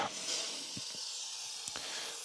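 Contact cleaner sprays onto the RAM slots of an IBM ThinkCentre M50 mainboard in a soft, steady hiss, broken by a few faint clicks and knocks nearby, with no voices.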